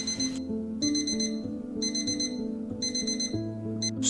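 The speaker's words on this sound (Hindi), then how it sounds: "अलार्म बजता है।" An alarm clock rings in a small city flat early in the morning, sounding a repeating electronic beeping pattern in even bursts over a soft tonal background, with no talking.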